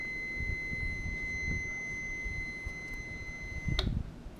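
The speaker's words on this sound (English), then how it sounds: "it's going to stay beeping for as long as I have the timer set for." An off-delay timer with a trigger switch beeps continuously as a steady high electronic tone while timing, then cuts off abruptly near the end with a click, heard alone with faint background noise.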